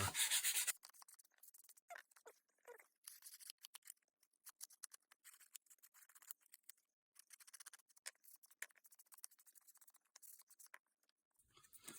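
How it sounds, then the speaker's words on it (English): Sandpaper rubs the edge of a vintage postcard mounted on a holiday art block, giving quiet, scratchy strokes in irregular bursts across the clip, close and soft with no talking. "I'm going to take the sandpaper and just knock a little bit of that back off"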